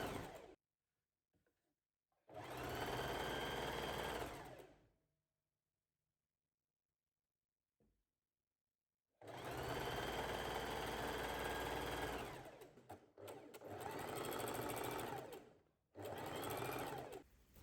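A sewing machine stitches the side seams of a long dress with a 1 cm seam allowance, running in three steady, loud bursts of a few seconds each, separated by quiet pauses.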